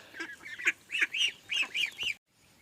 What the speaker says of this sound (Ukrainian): гуси вже такі гарні. І качечки також гарненькі.